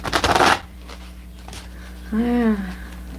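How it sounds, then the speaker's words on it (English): Tarot cards being shuffled by hand: one quick riffle-like burst of flapping card noise at the start, followed by quieter pauses while people talk. "I'll shuffle it, I think, once more"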